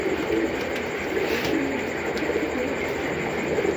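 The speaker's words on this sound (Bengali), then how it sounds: "এই যে নটটা যে ডাকতেছে এটা হলো কিটেল" A male Kitel pigeon coos close by in a loft, its soft, steady calls continuing across a few seconds over a constant background hiss.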